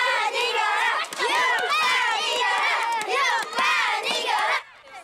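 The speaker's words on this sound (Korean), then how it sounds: "열띤 응원전도 빼놓을 수 없습니다" Crowd of schoolchildren shouting and cheering for the blue and white teams at an outdoor school sports day, loud and sustained, with high voices overlapping continuously before cutting off near the end.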